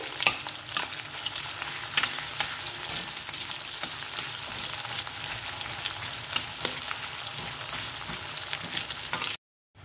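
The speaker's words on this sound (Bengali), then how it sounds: "পেঁয়াজটা দিয়ে আমাদের ভালো করে ভেজে নিতে হবে পেঁয়াজটাকে" Chopped onions fry steadily in a pan for a Bengali chola bhuna, a dense continuous sizzle with occasional stirring scrapes, close and loud throughout before cutting off abruptly at the end.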